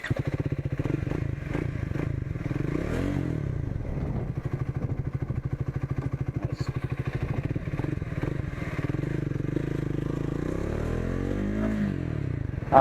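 A Triumph Speed 400 motorcycle engine runs steadily and loudly up close while riding, its pitch sweeping upward as it accelerates through gears, with rhythmic engine pulses throughout.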